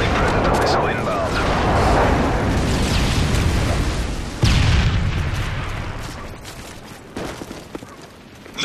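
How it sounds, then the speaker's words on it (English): In Call of Duty: Modern Warfare 3, a Predator missile strike and other blasts make loud, rumbling booms mixed with gunfire and battle noise. A sharp new hit lands midway, then everything fades toward quieter rumble. "Friendly Predator missile inbound."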